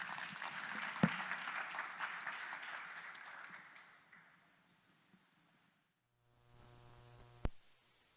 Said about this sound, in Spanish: Así es que démosles un fuerte aplauso a Alex